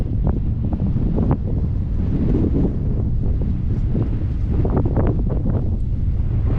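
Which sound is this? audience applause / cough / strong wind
strong wind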